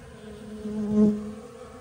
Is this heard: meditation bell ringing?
no